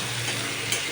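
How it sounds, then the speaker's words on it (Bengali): Fish bones with turmeric frying in a pan, a steady sizzle with a brief scrape of stirring. "নাড়াচাড়া করতে লাগলাম একটু।"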